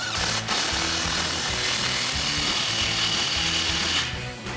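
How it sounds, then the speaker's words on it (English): A 15mm socket on a ratchet snugs up a 3-inch exhaust clamp on a 2022-2024 Toyota Tundra MBRP Armor Pro single exhaust, giving a steady, close, loud mechanical whir with repeated ratcheting clicks and no talking. "take a 15mm socket and snug up the clamp"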